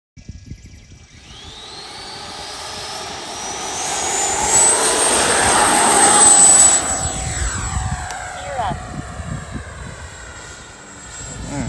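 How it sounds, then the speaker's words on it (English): An FMS Futura V3 PNP sport jet, a radio-controlled model with a Reflex v2 setup, takes off on its maiden flight. The electric ducted-fan whine rises steadily and grows loud, then recedes with a Doppler-like fall as the jet climbs away. "So let's get the Futura V3 up in the air and put it through the maiden flight."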